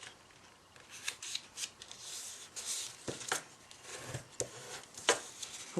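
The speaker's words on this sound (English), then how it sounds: "fold it corner to corner" Origami paper being folded corner to corner for a Christmas tree card, giving soft crinkles and crisp creasing swipes in irregular bursts, close and fairly quiet with no talking.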